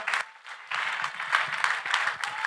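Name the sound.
congregation clapping louder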